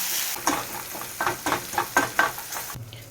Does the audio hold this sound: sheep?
no